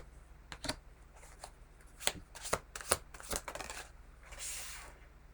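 Tarot cards are handled and shuffled close by, giving a series of quick papery riffles and slaps in uneven bursts, ending with a softer sliding shuffle, with no talk.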